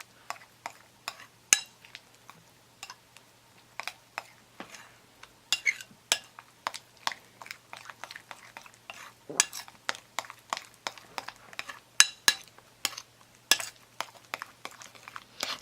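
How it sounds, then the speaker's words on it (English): A spoon or fork clinks and scrapes against a bowl while mixing egg yolk, olive oil and banana into a face mask, with irregular taps and scrapes, close and fairly quiet, over a low steady hum. "So after that we should mix all of our ingredients together."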